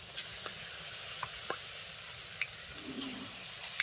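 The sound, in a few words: frying small palm fruit fritters (taler bora)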